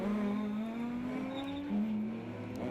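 Rallycross cars race hard around the Lessay circuit in France, a loud, steady engine drone rising slowly in pitch as they accelerate, then briefly dropping before climbing again, with no voices over it.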